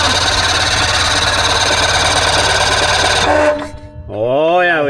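A 1997 Polaris Indy Trail Touring snowmobile engine runs loud and steady close by with a rough, buzzing drone, then cuts out suddenly and sputters; a voice follows briefly afterward.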